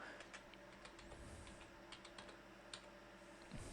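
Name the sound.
typing an email address on a computer keyboard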